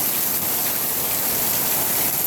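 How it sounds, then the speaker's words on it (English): Heavy rain pouring steadily in a dense, unbroken roar that stays loud and close throughout, with no voices over it. "we get a little rainstorm."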